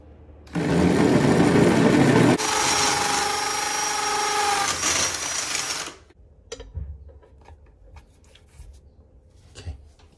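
A hammer drill on hammer mode bores into a conservatory wall with a 16 mm bit, a loud, continuous mechanical whirring grind for several seconds, changing pitch partway through, then stops, followed by scattered knocks and clatter.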